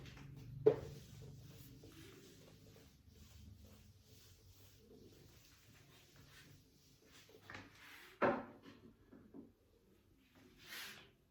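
Faint scratchy strokes of writing on a classroom board during a physics lesson, quiet and intermittent, with a couple of sharp knocks and small rustles in a hushed room.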